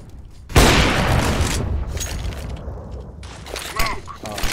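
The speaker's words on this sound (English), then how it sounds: "Deploying flashbang." A flashbang grenade goes off in a tactical shooter game with a sudden loud burst and a rushing, crackling decay, followed by quieter game noise and brief voices talking.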